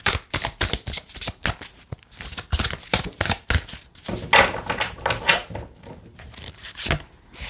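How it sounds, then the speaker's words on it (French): Tarot cards are shuffled and drawn in a rapid run of riffles, slaps and flicks, close and clear, with no talk over them. "J'ai envie de prendre une autre carte, les amis."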